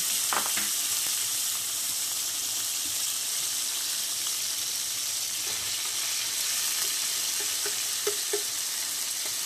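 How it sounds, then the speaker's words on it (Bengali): Marinated chicken hisses and sizzles in hot oil in a wok over a high flame, a steady loud broadband frying noise with occasional faint clinks, and no talking. "এবার আমরা তেলের মধ্যে যে চিকেন ম্যারিনেট করে রেখেছিলাম সেটা এবার দিয়ে দিলাম ভাজার জন্য"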